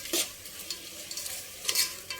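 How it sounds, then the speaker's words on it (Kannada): Ginger garlic paste fries in a pan for palak paneer, giving a close sizzle broken by two bursts of scraping stir strokes and lighter clinks, with no talking. "ಫಸ್ಟೇ ಶುಂಠಿ ಬೆಳ್ಳುಳ್ಳಿ ಪೇಸ್ಟ್ ಹುರ್ಕೋಬೇಕು ಅಂತ."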